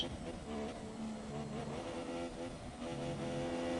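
Formula 1 race car engine from F1 2017 at the Belgium circuit, a steady loud high-revving drone with shifting harmonic pitch as it works through a lap, several cars overlapping, no voices over it.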